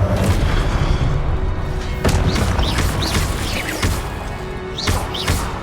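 Repeated Confringo blasting-spell explosions from Hogwarts Legacy boom and crash over a loud, dense din of combat, with sharp impacts recurring every second or so.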